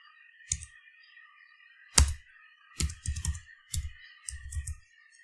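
Commands typed on a computer keyboard, heard as close, sharp key clicks in short irregular bursts with pauses between, over a faint steady background hum.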